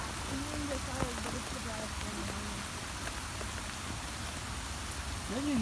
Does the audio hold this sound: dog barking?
no